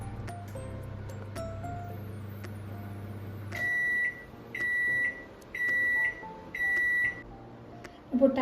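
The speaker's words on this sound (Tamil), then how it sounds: "இப்போ டைமர் முடிஞ்சிருச்சு." A microwave oven baking chocolate chip cookies hums low, then its finished timer sounds four loud, evenly spaced beeps, each about half a second long, close by with no talk.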